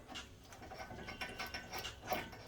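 A ratchet tightens brake caliper bolts on a 2009-15 Honda Pilot EX-L 3.5L during a front brake pad and rotor job, giving a quiet, steady run of fast clicking pawl sounds with no talking.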